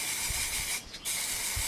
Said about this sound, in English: spray paint.